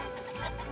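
Rooster pheasant flushing from a field while hunting, a short harsh cackle that sounds fairly close and loud over the rustle of open ground.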